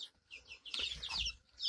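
Young chickens in a coop box cluck and peep close by in short, uneven bursts, with soft rustling and bumps underneath and a busier stretch of calls in the middle.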